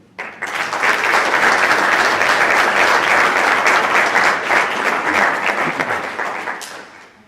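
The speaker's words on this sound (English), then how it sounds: "Just a round of applause for our panel" Audience applause for a cancer-awareness panel fills the room in a loud, steady wash of many clapping hands, rising sharply and holding for several seconds before tapering off.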